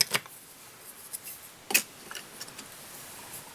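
Small scissors snip off excess material while a salmon fly is tied, two or three quick, faint, close cuts in a quiet room.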